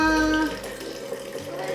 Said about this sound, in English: we're going to cover your seeds with some filtered water